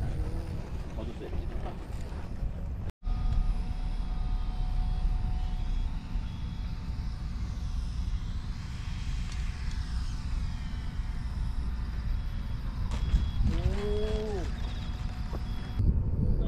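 A light aircraft engine drones steadily through a landing approach, mixed with wind rush and cockpit noise, with brief throttle changes; people talk over it throughout.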